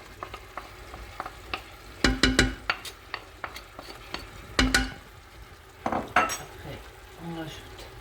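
Meat for a prune and almond tajine frying in a pan, with a spoon stirring and scraping against the metal in clustered bursts of clinks over a steady background sizzle.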